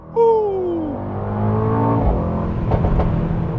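A Mercedes-AMG GT 63 S 4MATIC+ four-door coupe accelerating hard on throttle, the engine note rising steadily from inside the cabin, loud and continuous with a sustained roar.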